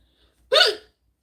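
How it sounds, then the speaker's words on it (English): A single sharp hiccup bursts out close and loud, lasting a fraction of a second, with silence on either side. "Oh no, not hiccups."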